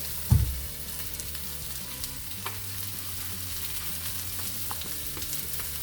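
Salted onions fry in a pan for a coriander chicken curry, with a continuous close sizzle after a brief clatter at the start and faint occasional stirring.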